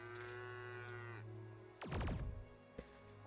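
A cow in the video game Craftopia gives a loud, drawn-out moo, then a second abrupt bellowing call cuts in, over a steady low game hum, with no talking.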